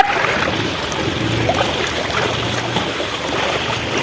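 Kakkadi waterfall pouring in the rain, a continuous even wash of rushing water, moderately loud and close, with no voices.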